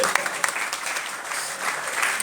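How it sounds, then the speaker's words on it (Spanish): A studio audience at a literary talk show applauds briefly, a short burst of scattered clapping with a few sharp claps standing out, while a voice talks faintly underneath. "Bueno, un aplauso siempre."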